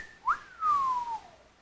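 A person whistles in imitation of the upland sandpiper's wolf whistle call: a short rising note, then a long sliding downward whistle, clear and close with nothing else around it.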